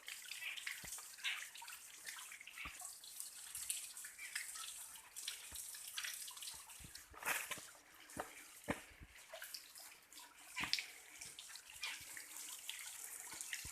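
A waterfall at Dashrath Ghat among the hills, a faint, steady rushing and splashing of water with scattered drip-like ticks, heard alone without speech.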